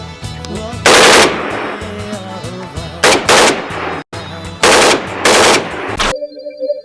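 A newly made gun is test-fired for quality control in Pakistan, loud close bursts of rapid automatic fire in several separate strings with short pauses between them.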